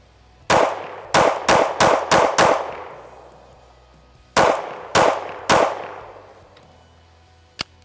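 Sharp pistol shots from a Shadow Systems CR920P fired at a range: a rapid string of six, a pause, then three more, each a loud close crack with a trailing echo, and a small click at the end.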